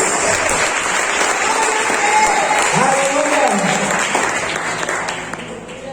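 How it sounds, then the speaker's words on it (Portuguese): Church congregation clapping steadily throughout a praise service, dense sustained applause with a voice calling out over it partway through. "Uma salva de palmas ao Senhor Jesus."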